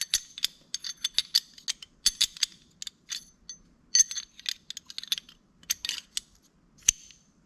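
Pistol slide and barrel handled during reassembly, a quick irregular series of close, crisp metallic clicks, scrapes and rattles in small bursts with brief pauses between.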